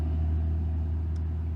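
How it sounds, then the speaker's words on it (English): A truck goes by on a road near a kayak spot, a steady low rumble that holds at an even level throughout, with no voices. "There's a truck going by."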